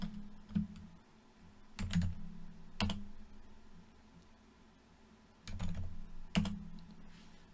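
Close computer keyboard typing in short bursts of clustered keystrokes, separated by quiet pauses, while commands are entered, with no voices.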